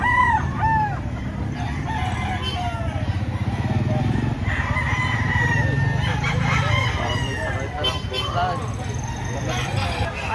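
Chickens at a poultry market in Lipa, Batangas crow and cluck repeatedly, with several rooster calls rising over a busy background murmur of voices and ambient noise, moderately close.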